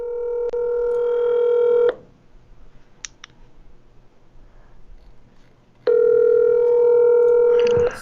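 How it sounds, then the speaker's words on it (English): Telephone call being placed: two long steady dial/ring tones, each about two seconds, separated by a quieter gap with faint clicks, fairly loud and close, with no talking. "Oh, wait! I hear it ringing."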